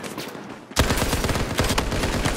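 Rapid automatic gunfire in Battlefield 4 Gun Master multiplayer on PS4 Pro: a loud, dense burst of shots begins abruptly after a brief quieter moment and continues without pause to the end.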